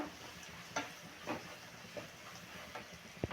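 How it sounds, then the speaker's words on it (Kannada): Garam masala, sambar powder and turmeric frying in a pan, a faint low sizzle broken by soft periodic stirring scrapes, close and quiet. "ಎಲ್ಲ ಹಸಿ ವಾಸನೆ ಹೋಗೋವರೆಗೂ ಫ್ರೈ ಮಾಡೋಣ."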